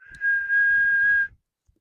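A single sustained whistled note, clear and close, held for about a second before stopping abruptly.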